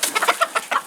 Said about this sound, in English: No, just random chicken.